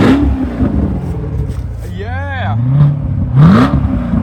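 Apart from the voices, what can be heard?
Corvette engine revving during test drive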